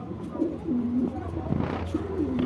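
Pigeons kept on a home farm coo in low, rolling calls, several overlapping phrases close by with light rustling in between.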